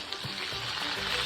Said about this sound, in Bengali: মাছ ভাজা তেলে জিরে গোটা গরম মশলা দিয়ে দেবো।